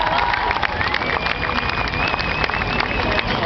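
A street crowd at the Gentse Feesten festival in Ghent claps and cheers for performers, a dense, continuous wash of applause with shouts and whistles throughout.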